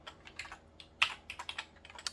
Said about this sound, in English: And we're in the word processor, so I can do some typing.